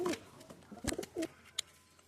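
Pigeons in an aviary cage give a few short coos and soft calls, close and fairly quiet, with gaps of near silence between them.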